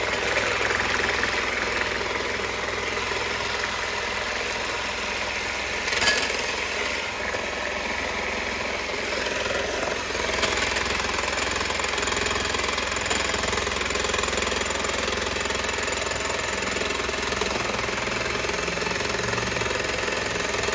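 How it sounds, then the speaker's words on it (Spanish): Eggs beaten until stiff for chiles rellenos de pollo y queso, likely with an electric mixer, giving a constant close motor drone with a faint rattling edge that runs without a break, no voices over it. "Ahora vamos a batir hasta que le quede súper, súper duro."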